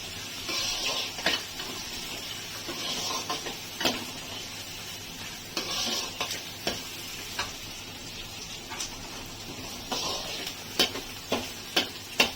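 Chana dal pulao with cashews and raisins is stirred in a pan on a home kitchen stove, giving soft sizzling under repeated scraping strokes of a spoon, close and moderately loud, in irregular bursts with brief pauses.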